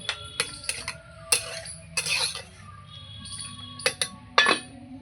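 A metal lid is set on a pot of soybean curry in a home kitchen, giving sharp metallic clinks and clatters with a few scattered clanks spread across the moment.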